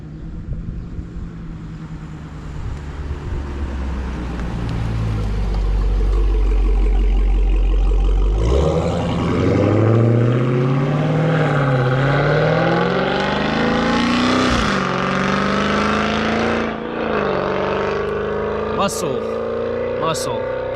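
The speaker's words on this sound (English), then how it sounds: "You could tell just the difference in sound pitches of muscle cars." Muscle cars at a summer cruise rev and accelerate loudly nearby, the engine pitch climbing and shifting through several surges, with sharp bursts near the end. Voices are faintly present.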